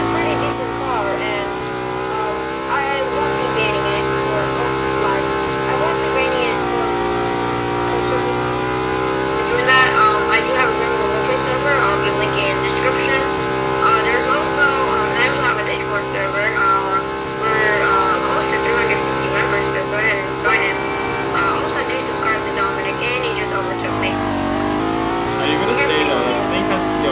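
A car engine from a video game vehicle, an eight-gear car with a 153 top speed, drones steadily throughout with rising and falling revs as it drives. The engine runs loud and continuous, with someone talking over it.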